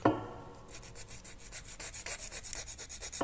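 Rapid back-and-forth rubbing as a small plastic part of a Revell 1/24 Trabant 601 scale model kit is sanded by hand, close and crisp, with a brief clatter at the start and then a regular scraping rhythm.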